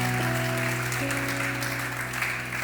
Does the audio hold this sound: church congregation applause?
yes